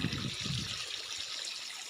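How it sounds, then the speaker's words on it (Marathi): Irrigation water flows freely across a guinea grass field, a steady broadband rush and trickle with low gurgling that fades somewhat after the first second, heard alone. "सगळं पाणी आपलं मोकार पद्धतीनं चालू"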